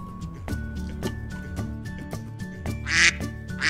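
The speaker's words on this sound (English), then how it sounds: "duck" A duck quacks repeatedly in a quick, rhythmic series of nasal calls over a light musical background, heard close and clear.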